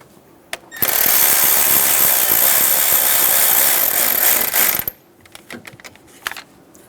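Ratchet snugging down a 10mm bolt on a 1994-1997 Honda Accord 2.2L four-cylinder during a timing belt job, a loud rapid clicking whir for about four seconds, followed by a few scattered clicks and clunks nearby.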